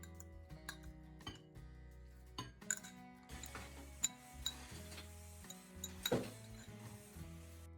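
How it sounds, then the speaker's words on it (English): A fork stirs garlic and salt together in a bowl, giving scattered light clinks and scrapes against the dish over steady background music. "Use a fork to mix everything thoroughly until the garlic and salt are evenly combined"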